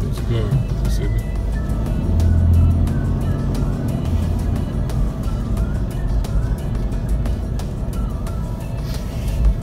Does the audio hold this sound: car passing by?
yes